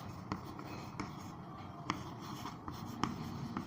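A pen writing on paper during a seventh-grade maths lesson on angles, faint close scratching with short sharp taps at irregular intervals over quiet room tone.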